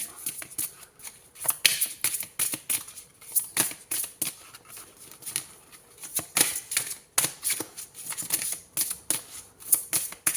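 Oracle cards being shuffled by hand to draw a single card, a fast run of crisp papery riffles and taps, close and fairly loud, with no talking over it.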